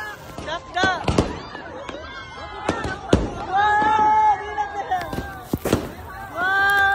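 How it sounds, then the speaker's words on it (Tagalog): Fireworks burst at the Sinulog festival in Cebu, a rapid run of sharp cracks and booms, some close and loud, with crackling fizz between them, while people talk and shout nearby over the noise. "sabay natin panoorin ang fireworks display."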